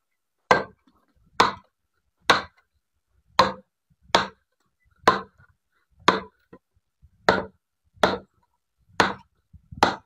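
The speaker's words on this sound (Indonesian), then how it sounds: "Kemudian kita coba buat motong batang bambu yang tobel," A blade strikes a hard wild bamboo stalk in eleven sharp, evenly spaced chops, each a crisp close thwack with silence between.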